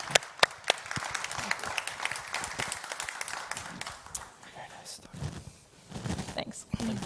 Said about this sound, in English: Thank you so much, all three of you, for taking part in the session, and yeah, an applause to all of you.